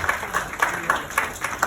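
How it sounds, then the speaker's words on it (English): Scattered clapping from a small audience at a coaching summit in Bangalore, a few sparse, rhythmic claps repeating at a steady pace, fairly faint with a light room murmur behind. "Can we clap for Kaushik, everybody?"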